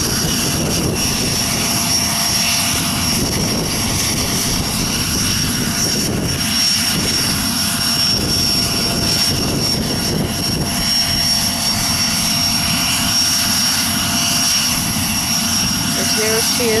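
Propeller airplane engine drone at Aurora Municipal Airport, a steady loud roar that swells and rumbles as the aircraft passes close by, with wind noise and a voice speaking over it.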